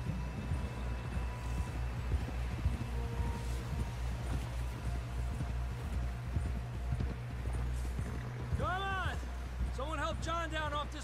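Steady hoof clip-clops of a horse at a trotting rhythm in Red Dead Redemption 2, under a low ambient hum, with a horse's whinny rising near the end.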